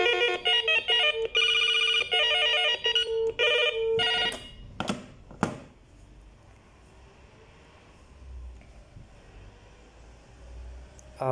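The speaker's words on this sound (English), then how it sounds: "we have 16 ringtones." An ECG 019 corded landline telephone plays one of its built-in ringtones, a loud electronic trilling ring close to the microphone. It stops after about four seconds, followed by a few handling clicks and a quiet room.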